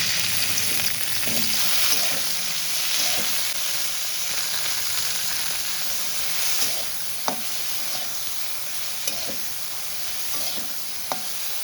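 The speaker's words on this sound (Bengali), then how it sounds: "এবার আমি ভেন্ডিগুলো ভেজে নেব।" Steady loud sizzling of okra frying in hot oil, with occasional small clicks and pops throughout.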